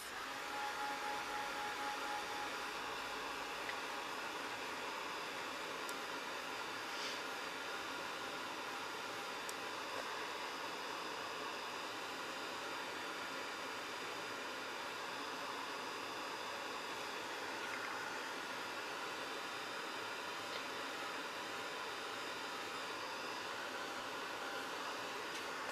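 A craft heat tool blows steadily while drying ink on a paper tag, a faint, even whooshing hiss that runs unbroken for nearly half a minute with no talking.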